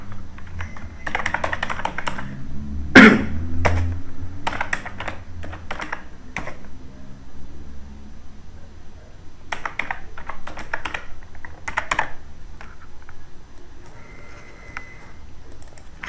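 Computer keyboard typing while data is entered into the DFD flowchart program, irregular bursts of clicking keys with pauses and one louder knock, close and dry.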